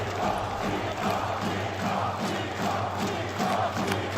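A large arena crowd at a Counter-Strike 2 esports match between Vitality and Team Spirit keeps up a loud, sustained roar of cheering and shouting, broad and distant, with no clear voices standing out.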